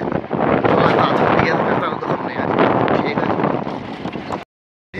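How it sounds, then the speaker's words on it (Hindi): Continuous broadband wind buffeting from riding a motorcycle through a village, loud and steady for over four seconds before cutting out abruptly near the end. "सर दोस्तों, मैं जा रहा मोटरसाइकिल से"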